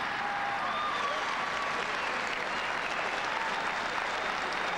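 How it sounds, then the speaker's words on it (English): Sustained stadium crowd applause at a 1988 rugby league match as a player leaves the field, a steady, broad wash of clapping filling the whole stretch with faint whistles on top. "And listen to the applause as Burke comes off"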